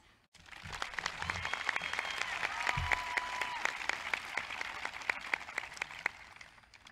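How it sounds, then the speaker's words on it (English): Graduation ceremony crowd for the Class of 2020 breaks into sustained applause, many hands clapping at moderate distance, swelling after a brief silent start and tapering toward the end, with a faint murmur of voices underneath. "Let's give a round of applause to all of us."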